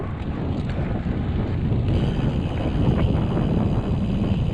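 Strong outdoor wind buffets the microphone in a steady, loud low roar that rumbles and flutters without pause, with no voices heard.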